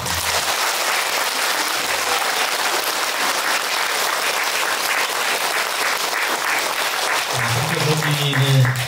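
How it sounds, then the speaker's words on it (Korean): An audience at a Korean gathering claps in a dense, continuous burst of applause that stays loud throughout, with some voices rising near the end. "박수 한번 주시고"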